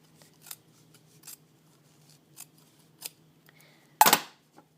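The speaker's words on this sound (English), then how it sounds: "then you flip it over and you're going to cut that tail off" Scissors trim the tail off upholstery double welt cord, several faint soft snips spaced across the clip, then one louder, sharper close cut near the end, in an otherwise quiet room.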